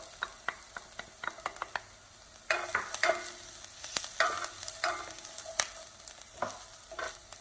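Garlic added to onions sautéing in a pan for shrimp tacos gobernador, a steady close sizzle with crisp spatula taps and scrapes scattered throughout, growing busier halfway through, no talk.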